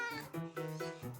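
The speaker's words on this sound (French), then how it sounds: "Toi aussi, tu es perdu? Bonjour, petit chat." A cartoon cat meows in a few drawn-out, close, clear calls with a wavering pitch, each separated by short gaps.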